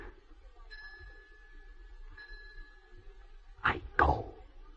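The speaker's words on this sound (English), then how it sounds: "The bell invites me." A single bell strikes twice near the end of a quiet scene from a radio play of Macbeth, two loud resonant tolls ringing out over low room hum after faint tonal chimes earlier.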